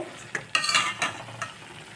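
Boiled banana stem pressed and mashed in a pan, a few short scraping strokes of a utensil with faint sizzle, close and fairly quiet.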